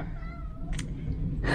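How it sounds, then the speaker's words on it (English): A soaking-wet cat on a rain-flooded farmhouse in central Portugal gives a couple of short meows, one around the middle and another at the end, fairly close over a steady low background rumble of running water. "The cat is also soaking wet."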